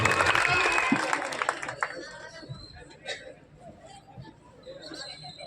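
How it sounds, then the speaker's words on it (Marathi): A crowd claps and cheers loudly at an outdoor public election rally, the applause strongest at the start and fading over several seconds while a voice on a loudspeaker carries on speaking. "आपण प्रचंड टाळ्यांचा गजर करून गीता भाभींच्या स्वागताला करायचं"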